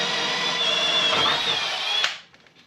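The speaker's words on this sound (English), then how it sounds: "So we'll drill a hole the size of the nutsert, rivet it in" A power drill whines steadily as it bores a hole into a vehicle frame for a nutsert, a loud continuous high-pitched drone for about two seconds before cutting off abruptly.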